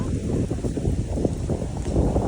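Strong wind on an island shore gusts steadily as a low, rumbling buffet against the microphone, moderately loud and continuous with no voices.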